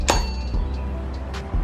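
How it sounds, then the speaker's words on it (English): A small metal part clinks as it is fitted back onto a Toyota MR2, a few short bright metallic taps close by over a low steady hum. "You hear that little clink?"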